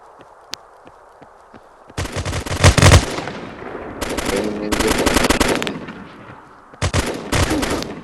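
Gunfire in a realistic gun video game: loud automatic bursts and single shots spread through a short stretch, with fainter game ambience between them.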